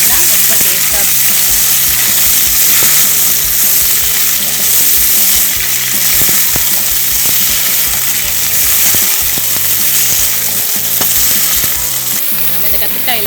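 Brinjal sautéing in a pan with a loud, dense, continuous sizzle and crackle, close up, with occasional stirring knocks throughout and no talk.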